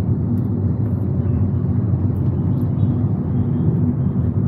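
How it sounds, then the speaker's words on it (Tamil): Hyundai i20 N-line heard from inside the cabin, pulling hard with downshifts and upshifts: a steady, loud low engine and road rumble with no clear gear-change breaks, and no talking. "ஸோ இப்போ நம்ம திரும்பி ஒரு ஆக்சலேஷன் கொடுத்து பார்ப்போம்"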